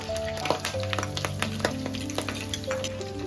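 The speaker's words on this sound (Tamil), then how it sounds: "இப்ப நம்ம கருவேப்பிலை 2 இனுக்கு போட்டுக்கலாம்." Two sprigs of curry leaves dropped into hot oil, already sizzling with fenugreek and fennel seeds for an eggplant curry, crackling and popping densely over a steady fry, close and fairly loud.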